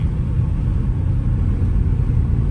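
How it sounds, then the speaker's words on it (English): Steady low rumble of a Dodge Scat Pack engine heard from the driver's seat, a continuous deep drone with a slight echo and no voices. "I can hear the echo of the car"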